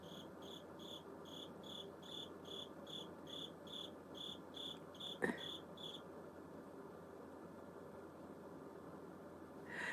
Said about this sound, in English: So yes, that's my cricket. Yes, he's annoying.